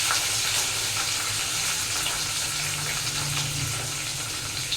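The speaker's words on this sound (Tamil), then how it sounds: "இதை நல்லா வதக்கி விட்டுடலாம்" Curry leaves, garlic and onion sauté in a hot pan for a home-cooked Tamil lunch, giving a loud, steady, close sizzle of frying that holds without a break.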